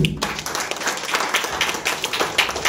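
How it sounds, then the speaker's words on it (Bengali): A crowd at a KTM adventure motorcycle ride meet claps in dense, sustained applause, close and lively for a few seconds. "তেজাসদার জন্য একটা জোরে হাততালি।"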